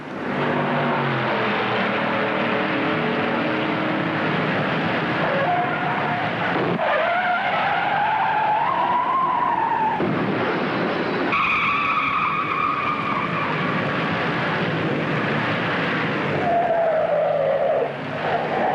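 Stock cars racing in the 1955 Southern 500, a continuous loud roar of engines with rising and falling whines as cars pass, and tire skids throughout.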